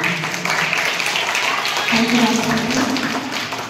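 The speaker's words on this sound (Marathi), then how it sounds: "एकदा परत जोरदार टाळ्या वाजवा" Audience applause at a school performance event, a dense, steady wash of clapping that fills the whole stretch and swells slightly midway, with voices mixed into the crowd noise.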